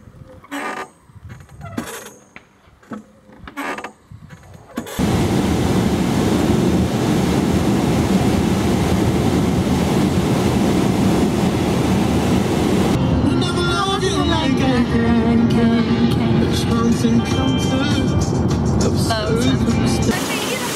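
A river flows past a watermill in Aukštaitija, Lithuania, a loud, steady rush of water that starts abruptly after a few seconds of scattered sounds and continues without a break, with voices faintly mixed in.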